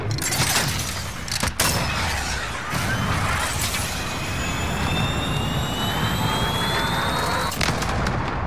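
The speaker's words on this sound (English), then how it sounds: "Be advised, friendly position airstrike inbound." Jet aircraft roar overhead on an airstrike run in Call of Duty: Modern Warfare, a loud sustained rumble with rising whines and sharp blasts cutting in near the start and end, amid battle noise.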